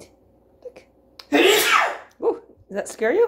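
A pet cat sneezes once, a short sharp burst up close, with a person talking softly before and after it.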